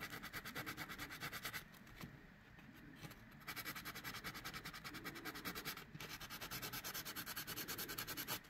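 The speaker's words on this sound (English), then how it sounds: "And I'm going to sand that" Resin shaker's top ridge being sanded by hand, a steady scratchy rubbing that runs in continuous strokes with a brief pause, close and fairly quiet with no talking.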